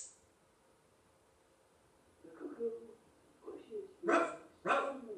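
A voice imitates a dog barking: two loud, sharp barks near the end, preceded by softer vocal sounds.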